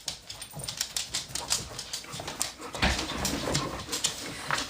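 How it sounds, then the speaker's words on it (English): A hound Malamute mix dog whimpers and whines in short, repeated yips and squeaks, close by, over a soft background of room noise and faint tapping. "I have 2 dogs, and Birdie is a hound Malamute mix, and she is much quieter"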